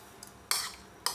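A lid is set on a pot of chicken majboos biryani, making two or three quick, close metallic clinks against a quiet background.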